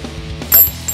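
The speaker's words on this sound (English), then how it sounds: "Now, remove the lower shock bolt using a 21mm." A ratchet wrench loosening the 21mm lower shock bolt on a Volkswagen Jetta's rear suspension, a short burst of close mechanical clicks and a metallic creak with no talking.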